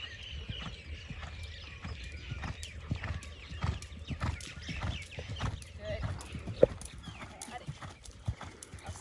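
Horse hooves clip-clop steadily on an arena surface as a rider works a horse in shoulder-fore along the wall during flatwork, with a rhythmic beat under faint background noise and occasional whinny-like sounds.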